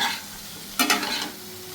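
Fish curry stir-fried in a pan for fish shukto, with a brief burst of sizzling and scraping around the middle over a quiet background of kitchen hiss.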